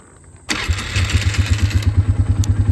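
A Polaris Scrambler 500 ATV engine starts up suddenly, then settles into a loud, close, steady rhythmic idle with fast regular pulses.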